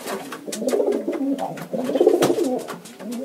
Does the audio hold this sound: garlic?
no